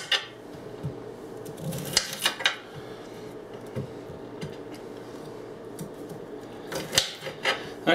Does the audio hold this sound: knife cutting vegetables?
yes